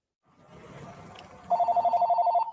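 A telephone rings in a quiet bookstore and comic shop, a rapid trilling bell that cuts in after a low background murmur and repeats in a quick pulsing burst.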